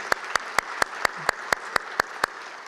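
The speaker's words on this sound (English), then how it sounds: "Dr. Garcia, one round of applause, please." A round of applause at a college conference plenary session, heard as about ten sharp, evenly spaced claps in a steady rhythm, close and fairly loud.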